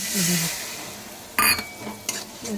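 Onions fry in a pan for a puti fish dish, a soft sizzle broken by a couple of sharp spatula scrapes and clinks against the metal.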